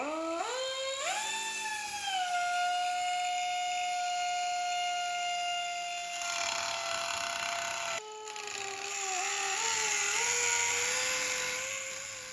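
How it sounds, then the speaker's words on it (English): A thin 3M Cubitron cutoff wheel cutting sheet metal on a 1951 Ford chop top: a loud, sustained high-pitched whine that rises as the wheel spins up, holds steady while cutting, and dips and wavers as it bites. "This is your standard cutoff wheel you can buy anywhere."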